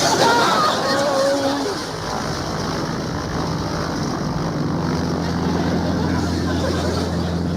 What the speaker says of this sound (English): Stop that plane!